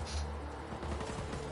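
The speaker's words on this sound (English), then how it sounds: "Stop shooting me with it, man. Come on. The sniper." Sniper rifle fire in a Minecraft-style game, a dense run of loud gunshot cracks and rumbling bursts packed into a short stretch, close and continuous with no talk.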